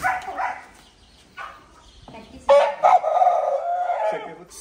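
A rooster on a dairy farm crows once loudly and close, with a drawn-out call following short clucks and a dog's brief bark, while someone speaks.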